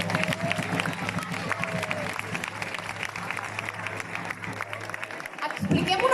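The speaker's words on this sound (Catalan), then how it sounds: "Un aplaudiment." Festival crowd in Catalonia applauding at the Festa de la Malavella 2022, a busy layer of clapping and crowd noise with a low hum beneath, steady throughout and swelling slightly at the end.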